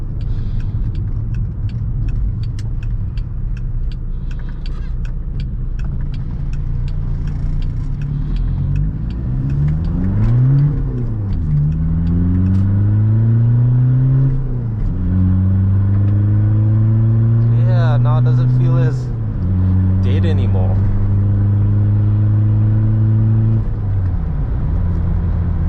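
A VW Golf MK2 GTI 16v engine revs up loudly in repeated rising pulls with gear changes between them, driven on a hill road, filling the whole stretch.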